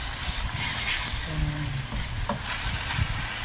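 Ingredients fry in shallow oil, a dense continuous crackling sizzle close up, with scraping stirring sounds and a brief low murmur partway through.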